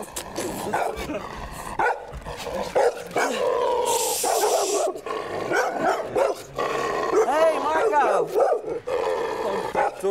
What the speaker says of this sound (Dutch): Hoor die hond